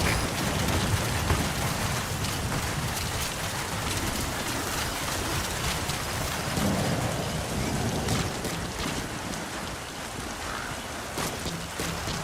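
A heavy, unbroken downpour roars steadily and close throughout a rainy stretch of Metal Gear Solid V: The Phantom Pain, dense and even with no pauses.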